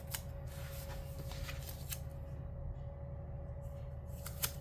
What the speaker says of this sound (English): let me pull this dark green sticker